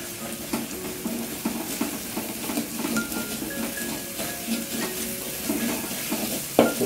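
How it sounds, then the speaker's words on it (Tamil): Beaten egg sizzles and fries in a pan for chicken fried rice while a utensil stirs it steadily, scraping and clinking against the metal in an uneven rhythm over constant sizzle. "சின்ன சின்ன ஃபைன் பீசஸாக வேணும் எக் அப்படின்னா நல்லா கிண்டி விட்டுட்டே இருங்க"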